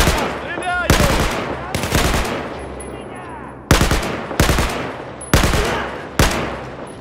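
Loud, close gunfire in the Battlefield 4 single-player campaign: about seven sharp shots or short bursts at irregular intervals, each ringing off with a reverberant tail over a low rumble, and no speech audible.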